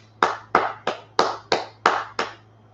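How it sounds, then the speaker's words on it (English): Seven sharp hand claps at an even, steady pace, crisp and fairly close, over a low background hum. "Go ahead, clap it up."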